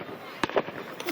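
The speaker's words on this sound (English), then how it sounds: "There's the fireworks right there." Fireworks pop faintly in the distance at a July 4th celebration, a few short bursts over a quiet outdoor background.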